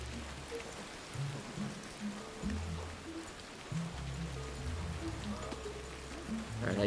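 Rain pours steadily in the prehistoric survival game Ancestors: The Humankind Odyssey, a dense hiss of drops with brief low thumps and muffled tones scattered through it.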